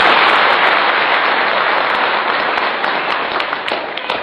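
An audience at a lecture on a Naqsyabandiyah Sufi order breaks into loud, dense applause, a sustained wash of many clapping hands that thins slightly toward the end.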